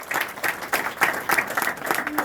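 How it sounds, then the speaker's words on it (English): Audience applause at an opening event for a green building technology program at Roxbury Community College, a short burst of many hands clapping, moderately loud and rhythmic, with faint voices underneath. "Please give them a round of applause."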